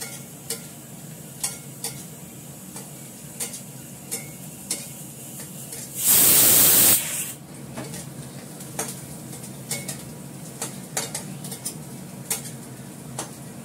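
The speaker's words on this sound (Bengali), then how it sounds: "পেঁয়াজটা ভাজা হয়ে গেছে, এর মধ্যে দেবো জিরে ফোড়ন।" Onions frying in oil in a pan while being stirred, with a soft steady sizzle, repeated light scrapes and taps of a spoon against the pan, and one brief louder burst of hissing midway, close by and without talk.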